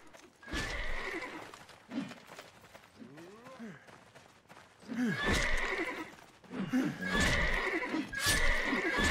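In a video game, a horse whinnies loudly several times amid hoofbeats and scuffling, with a rising, wavering neigh in the middle and bursts of rough noise around it.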